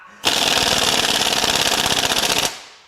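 An air impact wrench rattles hard on small 8mm bolts during a teardown of a high-mileage Subaru Outback EZ30R 3.0 H6 engine, one loud, continuous burst of rapid hammering lasting a couple of seconds, then stopping abruptly.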